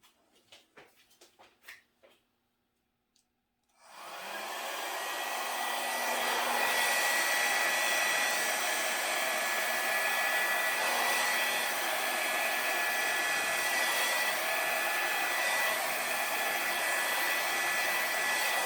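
A hair dryer switches on after a few quiet seconds with faint taps and blows steadily and loudly to the end, used to push and spread acrylic pour paint in a Dutch pour.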